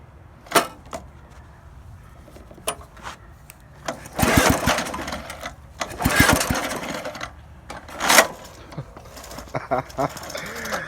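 A Lambert SS4 snow blower engine is pull-started outdoors: several separate rope pulls come in short loud bursts, some with a brief sputtering turnover that never settles into steady running, with quieter gaps between them.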